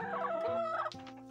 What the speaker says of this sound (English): And I saw a couple of chickens fighting.